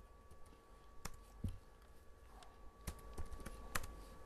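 Keys tap on a computer keyboard while a login username and password are entered, with sparse, quiet clicks and a few sharper strikes over a faint hum.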